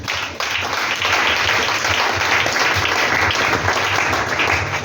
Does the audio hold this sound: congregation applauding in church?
yes